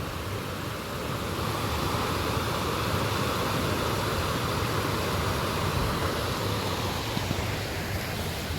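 Continuous broadband rush of fast-flowing water, steady and loud throughout with no voices.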